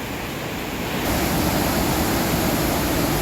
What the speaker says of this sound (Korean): 강수량이 불어서 물이 엄청나게 많이 떨어지고 있네요